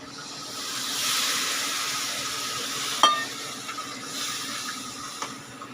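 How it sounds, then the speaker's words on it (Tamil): Boiled tomatoes going into a pan of onions for onion salna, a steady hiss and sizzle with stirring, a sharp clatter near the middle and small scraping knocks after. "இப்போ இந்த தக்காளி நம்ம பாயில் பண்ண வச்சுக்கிட்டிங்களா, அதையும் நம்ம விட்டுக்கலாம்."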